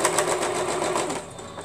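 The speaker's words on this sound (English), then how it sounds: "I'm going to sew this down" A sewing machine stitches down fabric flower petals with a rapid, even run of mechanical needle clatter, close and steady, then slowing and easing off near the end.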